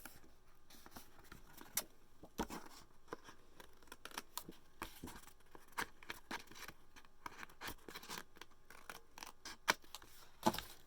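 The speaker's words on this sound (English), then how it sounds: "now we're going to go ahead and trim these off" Scissors trimming card craft pieces, a string of soft, quiet snips and rustles of paper spread unevenly through the passage.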